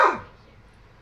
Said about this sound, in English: Enough barking.